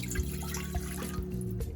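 Cold water pours steadily into a blender jar holding a vegan pepper jack cheese mixture, a continuous close liquid rush with a few drip-like splashes and no talking.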